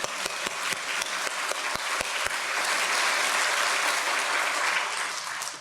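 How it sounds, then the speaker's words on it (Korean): Congregation applause for a church choir during a service, a dense, steady wash of clapping with a few sharp individual claps at the start, swelling and holding loud before tapering at the end, with no talk over it. "우리 찬양대 박수 한번 쳐줄까요?"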